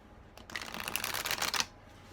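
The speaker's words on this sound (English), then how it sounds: "I'm going to shuffle and deal out 4 cards." Tarot cards being shuffled by hand, a dense crisp riffling flutter lasting just over a second, close and fairly quiet, with no voices.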